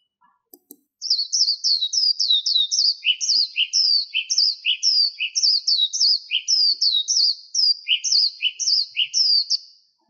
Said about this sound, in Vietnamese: Đây là tiếng hót của con chim sơn ca